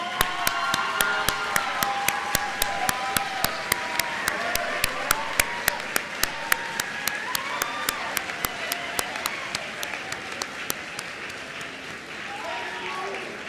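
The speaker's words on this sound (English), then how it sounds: "I would like for the graduates to join me in a standing round of applause to thank your families" A large audience at a university commencement ceremony gives graduates a standing round of applause: dense, sustained clapping from a big crowd with some sharp individual claps standing out, and faint voices mixed in.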